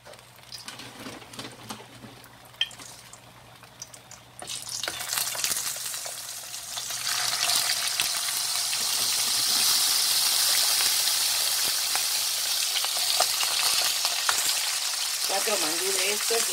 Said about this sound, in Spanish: Porque los mandús se hacen fritos estos.